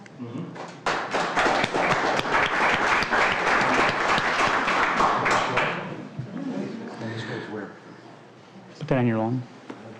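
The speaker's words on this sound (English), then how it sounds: "Let's give him a round of applause, please." Audience applause at a township board meeting, a dense burst of clapping from a room of people that lasts several seconds and then fades, followed by voices talking nearby.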